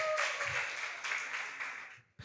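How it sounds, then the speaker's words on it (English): An audience at a breakfast conference applauds in a soft, dense wash of clapping that swells and dips, then drops away abruptly near the end. "Clap for her."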